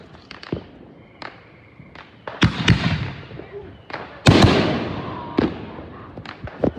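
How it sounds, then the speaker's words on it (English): Independence Day fireworks burst in a scattered series, with sharp pops and a few louder booms trailing crackly decays. Some bursts sound distant and others close, with no talk over them. "Independence Day fireworks part one."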